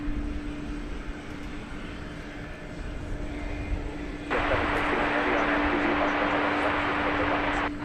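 Jet airplane taking off from runway 18 Left at DFW Airport, a distant engine rumble that swells abruptly into a loud, broad roar partway through and holds steady.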